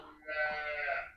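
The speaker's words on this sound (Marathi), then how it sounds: "वाड्याचा तिथून आवाज आला गाईंचा वगैरे" A cow lets out a single long, drawn-out moo with a nasal, harmonic tone, fairly close by in a Konkan village, with no talking.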